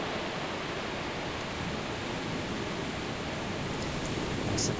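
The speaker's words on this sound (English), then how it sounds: "looks like our river is ready" Steady broadband rush of flowing river water in a video game, a constant, fairly loud wash with no breaks and no voices.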